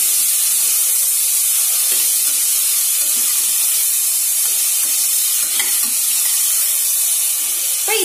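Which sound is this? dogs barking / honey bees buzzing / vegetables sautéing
vegetables sautéing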